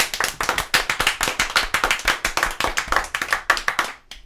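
A small group claps for a band's bassist and lead vocalist at a live show, rapid and even, close and fairly loud, with individual claps clearly audible before tapering off at the end.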